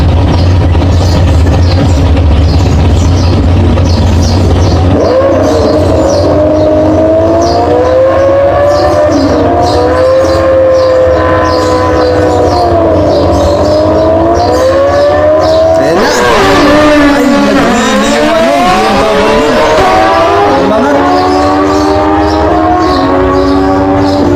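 A Suzuki Hayabusa and a BMW S1000R motorcycle drag racing, a loud continuous engine wail shifting pitch up through the gears, with a sharp change near the end as the bikes pass close by.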